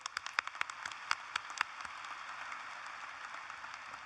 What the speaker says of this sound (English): Let's please give him another round of applause.